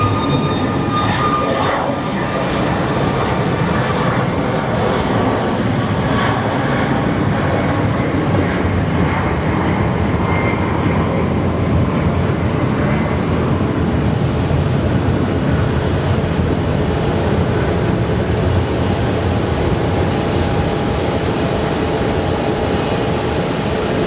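A continuous loud, broadband roar of a jet aircraft, probably an Airbus, at Phoenix Sky Harbor airport, steady throughout on a windy day, with no voices.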